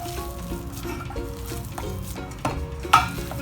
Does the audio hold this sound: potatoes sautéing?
yes